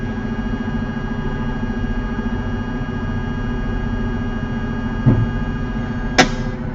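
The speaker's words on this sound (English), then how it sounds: "That's the sound of the air being let out." A sharp burst of hissing air vents from a truck's air system over a steady engine rumble, followed a second later by a brighter, louder hiss that quickly fades.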